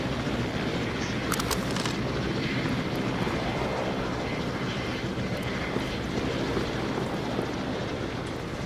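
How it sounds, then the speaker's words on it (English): A loud, continuous roar of a helicopter engine fills the whole stretch, dense and steady as it passes close overhead, in the video game No More Room in Hell. "Is that a helicopter? Yeah, it is."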